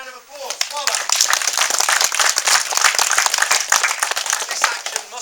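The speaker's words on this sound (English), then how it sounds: "Give him a big round of applause." A crowd breaks into dense, sustained clapping that carries on steadily, with a voice briefly heard at the start.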